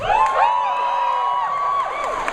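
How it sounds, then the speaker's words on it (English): Convention panel crowd at WonderCon cheering and clapping for a film panel, a sustained wash of shouts and whoops from a large hall with a prominent high voice rising above the noise. "Thanks for the applause."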